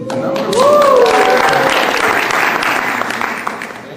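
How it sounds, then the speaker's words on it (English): An audience claps through a talk on a kibbutz, sustained applause swelling early and then easing off, close and loud, with a voice speaking over the start. "thank you for the clapping"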